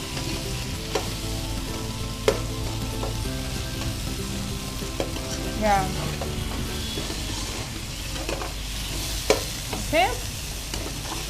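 Fried chicken pieces sizzle in a pan for Raju Gari Kodi Pulao, a steady close frying hiss broken by a few sharp clinks of stirring, with one brief spoken word.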